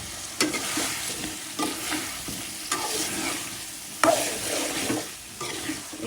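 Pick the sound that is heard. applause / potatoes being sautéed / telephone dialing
potatoes being sautéed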